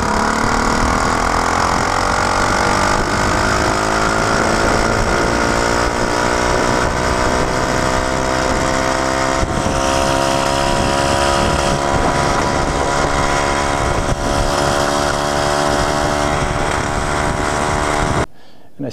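A Velo Solex moped fitted with a performance aluminum piston and barrel revs hard on a power run along a slightly downhill road, its small engine droning steadily and loudly with rising pitch before cutting off at the end.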